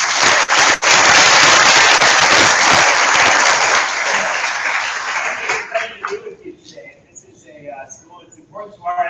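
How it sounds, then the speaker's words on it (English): An audience of secondary students claps for the visiting Canadian ambassador: a loud, dense burst of applause that holds strong, then thins into scattered claps and fades out. "So give him a round of applause."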